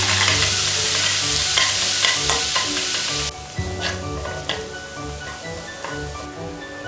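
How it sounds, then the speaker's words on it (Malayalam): Ginger, garlic and green chili paste sautés in coconut oil for chicken puttu: a loud crackling sizzle, stirred with repeated spatula scrapes, that drops noticeably quieter partway through and then keeps frying steadily. "ഇഞ്ചി വെളുത്തുള്ളി പച്ചമുളക് പേസ്റ്റ്. ഇതിൻ്റെ പച്ചക്കുത്ത് മാറുന്നവരെ ഒന്ന് വഴറ്റിയെടുക്കുക"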